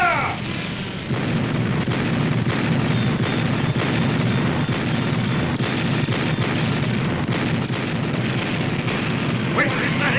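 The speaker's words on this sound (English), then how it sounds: "Henry, open fire!" Gunfire and explosions from a Godzilla audio drama battle against alien ships and green creatures form a dense, continuous roar of booms and bursts lasting throughout, with voices partly audible beneath the din.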